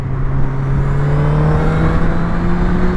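Honda CB1000R motorcycle engine pulling steadily in fifth gear around 4000 to 5000 rpm, a loud continuous drone with a rising tone and no talk over it.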